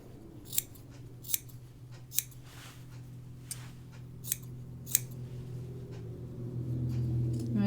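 Scissors trim the fabric of a pajama top collar, giving about seven crisp, separate snips spaced roughly a second apart over a steady low hum, close and fairly quiet.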